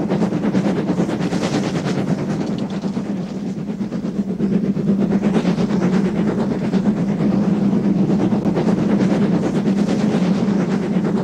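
LNER locomotive 65882 hauls a train of empty wagons up the line toward Silksworth Colliery, a loud, continuous rumble with rapid rhythmic beats and rattling wagons, steady throughout with no talk.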